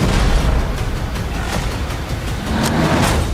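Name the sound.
explosion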